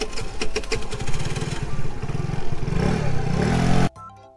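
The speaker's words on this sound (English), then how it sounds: "An orange moped." A small engine buzzes and revs loudly, its rough chugging rising in pitch before abruptly cutting to quiet.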